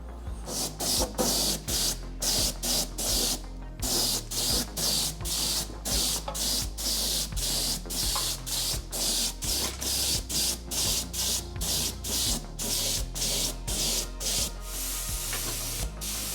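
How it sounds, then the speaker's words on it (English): EFA paint machine primer sprayed on parts of a Magirus Deutz 170D11 truck, heard as steady hissing spray bursts pulsing in a regular rhythm, close and even in level, with no talk. "I'm going to be priming that with this EFA paint machine primer"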